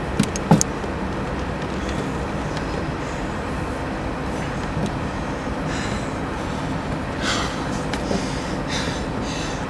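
A car drives along, heard from inside its boot: a steady muffled road rumble and engine drone with a few faint knocks and bumps, no talk.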